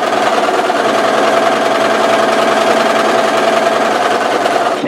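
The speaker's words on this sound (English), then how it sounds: "I'm going to do both of them here on the sewing machine." A home sewing machine stitches a fabric zipper face mask, giving a steady, fast mechanical hum and clatter that runs continuously and close by at a constant pace, with no talking.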